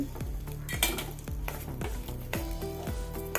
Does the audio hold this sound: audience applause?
no